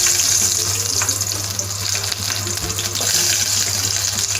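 Crushed garlic sizzles in hot oil heated in a pot on the stove, a steady, close, even crackle throughout with no voices.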